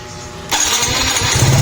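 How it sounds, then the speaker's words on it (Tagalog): A Honda Smash 115 motorcycle with a new battery and full-wave regulator cranks and starts, then settles into a loud, close, steady running engine sound with no talking. "Start po natin mga sir, abangan ang voltage drop."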